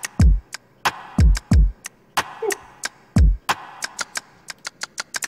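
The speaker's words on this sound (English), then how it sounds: "I'm gonna show you this with just the kick and the snare and the hi-hats" A sparse electronic drum beat of kick, snare and hi-hats, with deep booming kicks, sharp snare cracks and crisp ticking hats in a loose groove, loud and alone.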